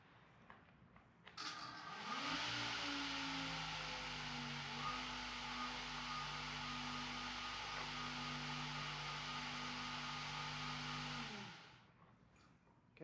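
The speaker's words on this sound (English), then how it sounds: "So here's the mower module spinning up" Yarbo Y series robotic mower module with its blades spinning up: a steady, loud whirring drone with a rising motor whine that holds level for about nine seconds, then winds down and stops, with no talking.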